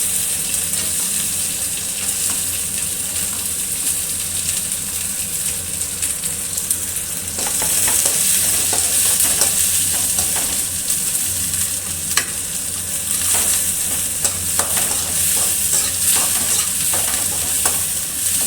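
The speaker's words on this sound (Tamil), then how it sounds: "பூண்டு இஞ்சி பேஸ்ட்டு, வெங்காயம் எல்லாமே போட்டு இப்போ நம்ம வதக்கிட்டு இருக்கோம்" Onions with ginger-garlic paste fry and get stirred in a pan, with a continuous close sizzle and repeated scraping of the spoon. The sound becomes somewhat louder and busier partway through, and no one speaks.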